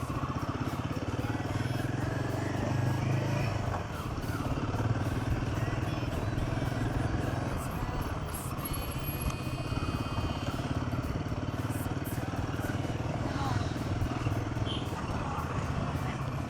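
A Royal Enfield Himalayan motorcycle rumbling along a road with a steady low engine drone and wind noise, continuous and close throughout the ride.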